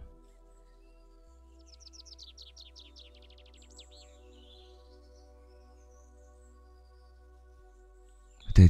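Birds sing in a quiet outdoor setting, with a quick run of high trilling chirps followed by scattered fainter calls over a faint steady low hum. A brief louder noise comes right at the end.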